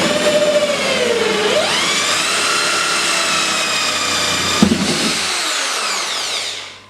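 A power tool whines steadily as it cuts a hole in a campervan for an underslung water tank, its pitch rising after a second, then a brief clunk before the motor winds down at the end.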